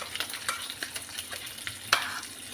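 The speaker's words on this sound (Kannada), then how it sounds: "ಇವಾಗ ಗ್ರೈಂಡ್ ಮಾಡಿ ಇಟ್ಕೊಂಡಿದ್ದ ಮಸಾಲ ಹಾಕ್ಬಿಟ್ಟಿದ್ದೀನಿ" Ground masala fries in a pan with cinnamon and bay leaves for a drumstick potato gravy, a soft sizzle under scattered clicks and scrapes of stirring.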